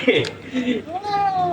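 A cat meows loudly several times, with short rising and falling cries, while being given a shampoo bath.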